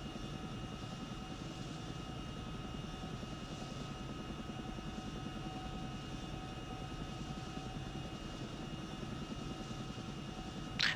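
A Chinook helicopter flies in a video game, its engine drone and rotor noise steady and continuous with sustained whining tones, loud and even throughout, ending in a brief burst.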